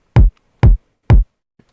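Two kick drum samples layered into one hit, one adding a clicky attack, sounding three times at an even pace, each a loud, close, punchy thump with a bright click on top, without any voices.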